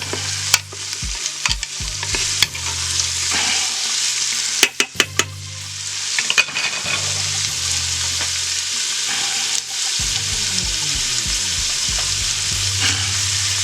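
Celery and other vegetables sizzle as they fry in a pot for stewed chicken, a steady close hiss broken by repeated clanks and scrapes of stirring, with no talking.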